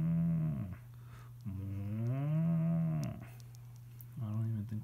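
A voice gives a few drawn-out, low, wavering moo imitations, three in a row with short pauses, close and fairly loud.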